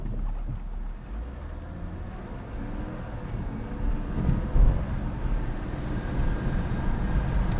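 A BMW E93 328i with a lean-running condition is out on a test drive, its engine and road noise a steady low drone with wind buffeting, rising slightly midway, no talking.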